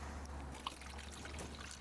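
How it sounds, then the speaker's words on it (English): Water trickles and pours steadily into the base of a Big Green Egg ceramic grill, a faint, continuous dribbling stream heard close up with no talking. "Just gonna add some water to this bottom."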